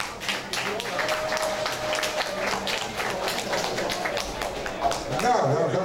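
A crowd at a Sinterklaascross motocross meet in Heerde claps for the MC B-class riders, a continuous patter of many hands mixed with background talk and event noise.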